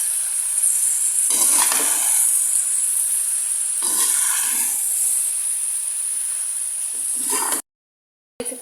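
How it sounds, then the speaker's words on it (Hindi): Macaroni being mixed with masala and coriander in a pan for Muharram niyaz: three bursts of scraping spoon strokes over a steady loud sizzling hiss, with no talking, then a sudden cutoff near the end. "मैकरोनी शामिल करेंगे, हम धनिया शामिल करेंगे, अच्छे तरीके से मिक्स कर लेंगे"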